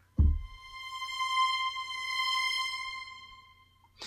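Orchestral Tools Time Macro echo swell sample: a deep low thump opens a sustained bright tonal chord that swells once, dips, then rises again into a larger swell before fading, with a soft hit at the very end.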